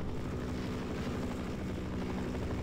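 A helicopter in the video game Half-Life gives off a steady, droning rotor and engine roar that holds at an even, fairly loud level throughout, with no voices over it.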